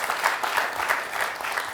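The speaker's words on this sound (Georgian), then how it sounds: "აპლოდისმენტები მოუხდებოდა ამ გადაწყვეტილებას" An audience claps steadily, a dense patter of applause holding at an even level throughout.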